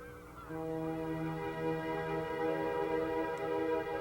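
Geese flying overhead in fall honk in a loose, overlapping chorus, their nasal calls carrying continuously from some distance over a soft outdoor background.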